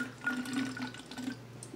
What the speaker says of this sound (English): I'm going to pour some of the water in here.